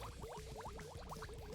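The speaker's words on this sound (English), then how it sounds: "that thing is just bubbling up a storm" Fluid in a junkyard truck bubbling hard, a rapid, continuous run of close gurgling pops with no break.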